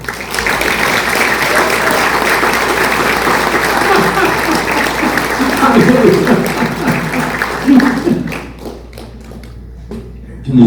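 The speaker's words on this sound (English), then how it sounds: "So please give a big round of applause to welcome Mr." Loud sustained applause from an audience welcoming a performer at an Appalachian storytelling stage event, dense clapping that swells then thins out into scattered claps and fades.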